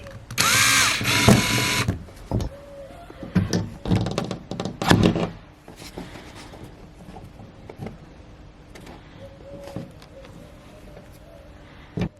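A wood router with a homemade extension arm cuts a 60 cm circle from an old furniture board, giving a loud, dense whine for about two seconds, then a few rough bursts and thumps before fading into quiet handling noises.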